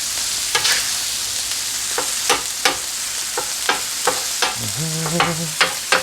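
Sharp metal spatula scrapes and taps repeat in a loose rhythm, chopping meat for cheesesteak, over a constant hiss of sizzling food on a hot flat griddle.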